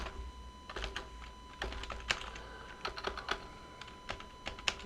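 Someone types on a computer keyboard while writing x86-64 assembly code, with irregular clusters of close, light key clicks and short pauses, quiet and without speech.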